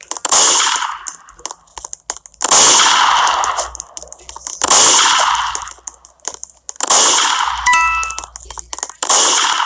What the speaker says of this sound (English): Who the heck is shooting the gun?